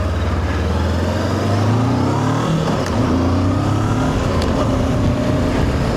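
Voge motorcycle accelerating hard close by, a loud engine drone rising in pitch, dropping at a gear change near the middle, then climbing again steadily under wind rush.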